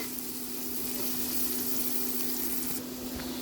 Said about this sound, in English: let's fry our onions. Let's add our garlic.